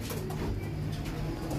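A pigeon cooing close by, a low, throaty, steady coo sustained throughout the short moment, with no talking.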